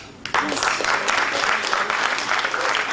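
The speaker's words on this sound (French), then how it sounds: "On l'applaudit très fort." A theatre audience breaks into loud, dense clapping after a brief quiet start, the applause sustained and close for a tribute at a stage performance.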